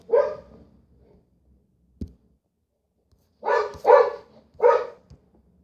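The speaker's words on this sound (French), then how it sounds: "Oh mon chien." A dog barks nearby, one bark at the start, a soft knock, then a quick run of three loud barks after a quiet pause, with silence between.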